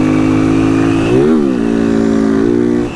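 A motorcycle engine revs hard and close, holding a loud steady drone, surging briefly upward and settling again, then dropping off at the end, with no talk.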